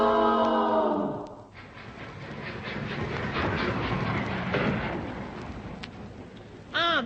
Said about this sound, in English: the train was on time